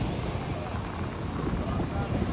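Steady, heavy wind roars across the microphone on a beach in Pensacola, Florida, in a continuous low rumble, with faint surf in the background.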